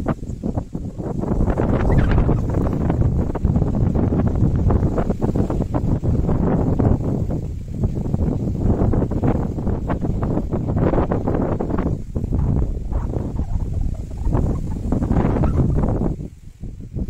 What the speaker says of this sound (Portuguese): Meus amigos, 120 metros com muito vento.